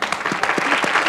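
Studio audience applauding at a televised jazz music show, a steady dense wash of clapping throughout the short moment.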